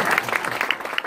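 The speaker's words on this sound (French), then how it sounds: "on peut vous applaudir encore" Audience applause at a ministerial inauguration of a departmental media library, a brief burst of dense, steady clapping close to the microphone.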